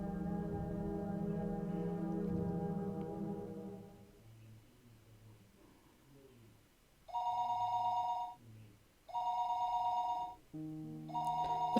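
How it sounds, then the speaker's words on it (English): A telephone rings downstairs in a house, its electronic trill coming in three repeated bursts with short gaps, clear and fairly loud after low background music fades out. "The phone rang noisily downstairs."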